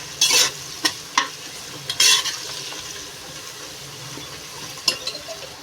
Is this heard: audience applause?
no